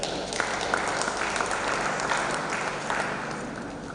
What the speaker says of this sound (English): I think we should have a big clap for that.